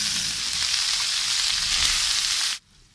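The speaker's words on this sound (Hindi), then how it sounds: "अब हम इसके अंदर कीमा डाल के कीमा को भून" Minced meat fries in a pan with garlic and green chili paste, giving a loud, steady close sizzle that runs unbroken and then cuts off abruptly just before the end, with no voices.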